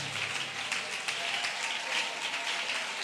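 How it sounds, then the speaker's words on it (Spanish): Church congregation applauding during worship, a steady wash of many hands clapping at moderate volume throughout. "No deje de aplaudir,"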